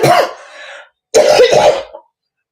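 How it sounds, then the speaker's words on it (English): Two loud, close coughs, each a rough throaty burst trailing into a rasp, separated by a brief pause. "so I'm not coughing right on her."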